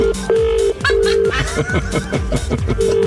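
Two telephones ring together, their electronic ringing tones overlapping in loud, repeated bursts that start and stop in an irregular pattern, with a busy mix of sound underneath.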